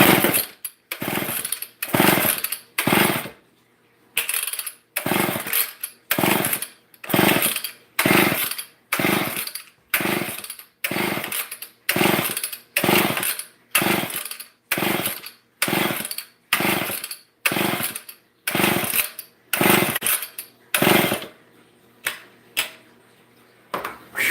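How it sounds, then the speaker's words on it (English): An old Homelite chainsaw in need of repair runs indoors in rapid, repeated bursts, revving up and cutting out over and over in a steady rhythm, loud and close. "I know I should be running a chainsaw inside"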